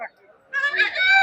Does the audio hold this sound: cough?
no